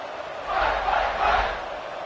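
Stadium crowd roaring in a college football video game, Ole Miss against USC, a steady broad cheer that swells twice during a kickoff after a touchdown drive.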